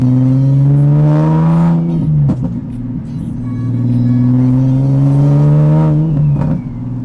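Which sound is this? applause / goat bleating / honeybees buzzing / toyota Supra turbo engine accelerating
toyota Supra turbo engine accelerating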